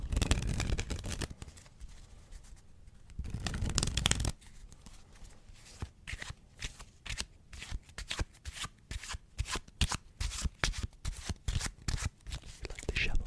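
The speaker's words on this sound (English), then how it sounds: "Let's get a nice satisfying shuffle here." A deck of playing cards is shuffled close up in a quiet ASMR-style setting, giving repeated crisp riffling bursts and rapid flutters that come in quick, irregular runs.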